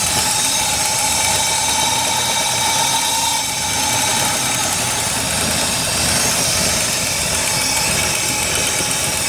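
A 1977 Mercedes-Benz 450SEL 6.9 V8 idles steadily and loudly up close, its rumble wavering slightly in an uneven, fluctuating idle.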